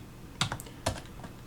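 A few quick keystrokes on a computer keyboard entering a terminal command, sharp close clicks in a short burst of about four taps, fairly faint.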